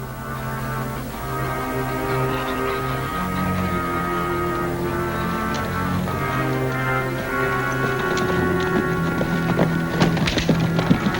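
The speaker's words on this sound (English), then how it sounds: "Annie and Lofty just brought in your horse, Hardy." Horse hooves clip-clop in a 1950s TV western, a steady rhythmic plodding under a continuous musical score, with sharper hoof strikes growing busier toward the end.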